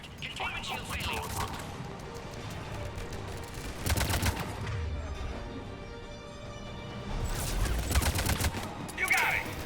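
Heavy bursts of automatic gunfire crackle through a Mass Effect 3 battle, two dense volleys of rapid shots separated by a lull filled with combat noise, voices speaking amid the shooting.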